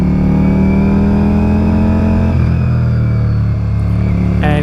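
A 2023 Ducati Diavel V4 motorcycle fitted with an Akrapovic exhaust roars steadily under load, a loud, close, continuous engine drone that shifts pitch midway as the rider changes speed.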